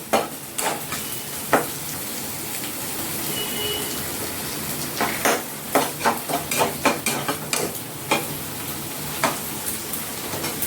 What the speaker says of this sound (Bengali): আদাটা আমি ভাজা হয়ে যাক।